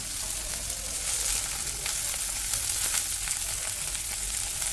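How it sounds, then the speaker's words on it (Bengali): Sliced potato, carrot and beans frying in hot oil for dalia khichuri, a dense steady sizzle with crackling spatter, close and without talk throughout. "তেলটা গরম হয়ে গেছে এবার একে একে করে সব সবজিগুলো দিয়ে দেব"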